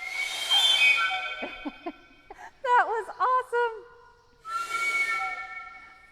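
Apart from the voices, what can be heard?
elephant Twiggy blowing a train whistle with her trunk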